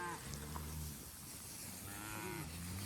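Cattle moo on a pasture farm, with several low, drawn-out calls overlapping, faint and somewhat distant over soft outdoor background noise.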